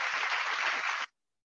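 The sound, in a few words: audience applause for the company CMD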